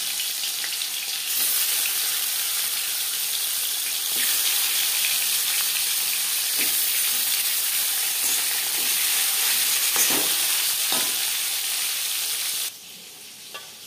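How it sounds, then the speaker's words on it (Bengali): Marinated silver carp frying in hot refined oil, a steady loud sizzle with crackling and hiss that holds for several seconds, then drops abruptly to a quieter hiss near the end. "4 চামচ রিফাইন্ড অয়েল গরম করে নেওয়ার পর দিয়ে দেব ম্যারিনেট করে রাখা মাছ"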